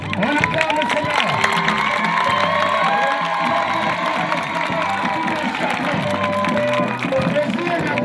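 A large crowd cheers and acclaims continuously, with dense overlapping shouts, whoops and applause, loud and steady throughout, and voices rising within the mass of sound.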